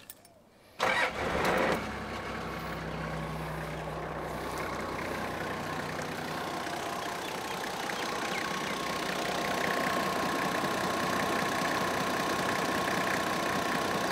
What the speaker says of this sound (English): So now I'll start the car.